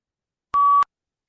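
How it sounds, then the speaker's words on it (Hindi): A single clear electronic beep marks the end of preparation time in a PTE Read Aloud test, a steady pure tone lasting about a third of a second, loud and alone in silence. "आपने एक साउंड सुना बीप, इसका मतलब है अब आपने बोलना शुरू करना है"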